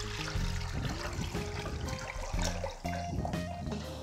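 Soaked tamarind and dried plum water is strained, producing a continuous close trickling and splashing of liquid with a few brief pauses, and background music plays underneath.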